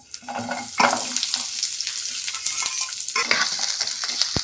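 Onion, ginger and garlic hit hot oil in a pan, setting off a loud hissing sizzle that carries on steadily with occasional stirring clinks, no voice present.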